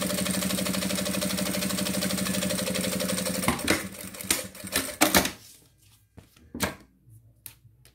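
A sewing machine runs steadily while stitching a zippered fabric tablet holder, a fast continuous mechanical whir for a few seconds, then stops into a handful of sharp clicks and handling knocks.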